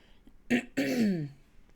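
Two rough throat-clearing bursts, the first short and the second longer and voiced, close to the mic in an otherwise quiet room.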